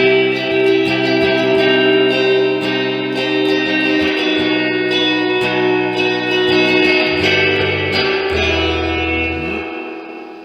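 An amplifier's spring reverb tank colours a sustained, distorted electric guitar, with held chords ringing loudly under a washy reverb tail and fading out at the end.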